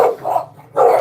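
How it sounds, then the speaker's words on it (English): Dogs bark indoors in two or three sharp, loud, close woofs within a second, with no voices. "Excuse the dogs."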